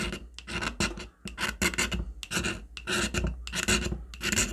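Magnesium fire-starter block from a mini survival kit being scraped with a blade: close, loud, rhythmic rasping strokes in quick repeated bursts with short gaps between, and no talking.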